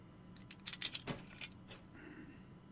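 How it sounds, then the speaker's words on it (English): A key jangles and rattles in the lock of a locked door in Silent Hill 2, giving a quick run of close metallic clinks and scrapes, then falling quiet. "It's locked. Okay, that key doesn't work."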